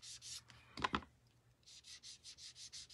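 Light rubbing over raised, embossed paper leaves made with a Stampin' Up! leaf embosser: a few soft, close brushing strokes near the start, a sharper pair of scrapes, then a steady run of gentle rhythmic rubs.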